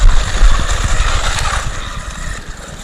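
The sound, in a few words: Arrma Mojave Grom RC truck driving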